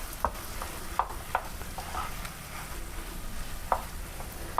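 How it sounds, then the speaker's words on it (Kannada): Mashed potato mixed with salt and turmeric powder gets stirred in a pan over a medium flame. Soft scraping and a low background sizzle run throughout, with a few sharper spoon-against-pan clicks and no talking. "ಸ್ವಲ್ಪ ಉಪ್ಪು ಮತ್ತು ಸ್ವಲ್ಪ ಅರಿಶಿನ ಪುಡಿ ಹಾಕ್ಕೊಂಡು ಚೆನ್ನಾಗಿ ಮಿಕ್ಸ್ ಮಾಡ್ಕೊಳ್ಳೋಣ ಇದನ್ನು"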